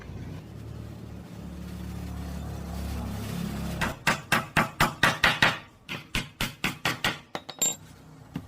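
Hammer blows drive nails into a handmade wooden peanut grinder, about a dozen sharp, evenly spaced knocks in quick succession after a stretch of low background rumble.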